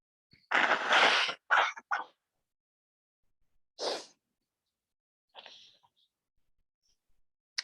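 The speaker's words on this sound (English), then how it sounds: "Sorry, I'm going to sneeze again." A close, sharp sneeze bursts out, followed by a few quick smaller sneezing and breathy sounds, then a softer gasp-like exhale and faint rustles in an otherwise quiet room.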